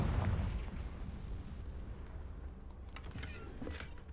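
A Confringo blasting spell explodes in Hogwarts Legacy, a loud low boom at the start that fades into a lingering rumble with faint crackling debris afterward.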